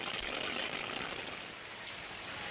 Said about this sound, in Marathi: मुंबई आणि परिसरामध्ये मुसळधार पाऊस होतोय